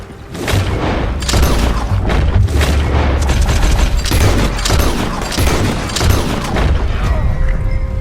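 Rapid bursts of gunfire and heavy booms fill a Red Dead Redemption 2 shootout, shots cracking in clustered volleys with brief gaps between them, loud and close.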